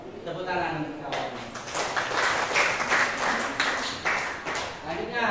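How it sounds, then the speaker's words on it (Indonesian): Students in a classroom clapping their hands together in brisk, rhythmic bursts, close and fairly loud, with talking mixed in. "Tepuk tangan kawan."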